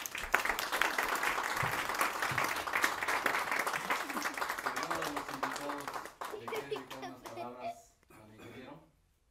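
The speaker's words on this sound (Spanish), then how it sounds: "Un fuerte aplauso de favor" Audience applause at an engineering graduation ceremony, a dense round of clapping that fades out, followed by voices speaking as it dies away.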